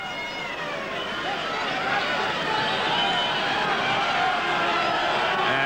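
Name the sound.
rugby league crowd roaring on a cold night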